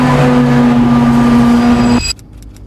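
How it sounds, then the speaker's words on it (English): A Porsche 918 Spyder driving through a forest, its engine droning loud and steady with a strong tonal hum up close, then cutting off abruptly near the end. "driving through the forest in the 918 Spyder"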